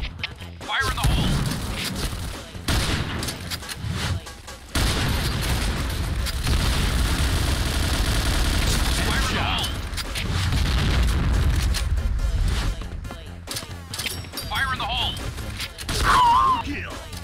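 In a Point Blank shooter match, a grenade explodes amid gunfire, with loud booming blasts and sustained shots filling the clip while players shout over the chaos.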